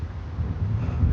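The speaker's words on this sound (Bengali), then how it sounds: "হাওয়া দিলে ঝাউগুলো বেশ সুন্দর, একটা শাঁ শাঁ শাঁ শাঁ আওয়াজ আসছে" Wind rushing through casuarina trees at a seaside resort along a coastal marine drive: a steady, low, blustery roar with gusty swells and no voices, as the breeze buffets the microphone.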